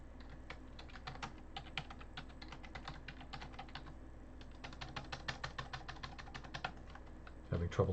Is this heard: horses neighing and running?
no